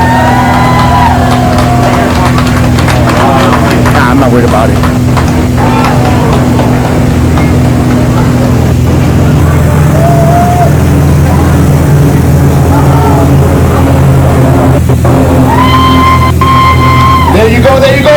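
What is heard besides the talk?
engines of a Veterans Day aircraft flyover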